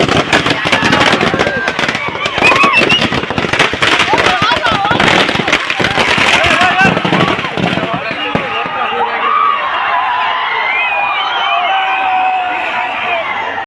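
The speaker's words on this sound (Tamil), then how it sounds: "பட்டாசை வெடிக்க விட்டாங்க பாருங்க, தலைக்கு மேலே பட்டாசு பறக்குது" Firecrackers burst overhead in dense, rapid crackling volleys at an outdoor fan celebration, with a crowd cheering and shouting. The bursts are loud and close, then thin out into a steadier wash of crowd noise and distant pops.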